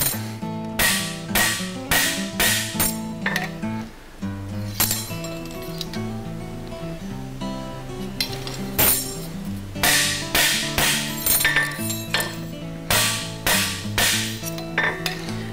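Hammer blows ring sharply on a steel horseshoe being cold-shaped by a farrier, arriving in quick bursts of several strikes separated by short pauses, loud, close and metallic, with no talking.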